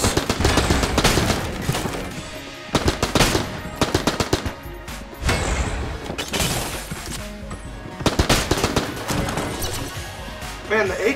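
Rapid AK-47 bursts in Enter the Gungeon, loud repeated volleys of clattering shots broken by short gaps, with someone talking over the action.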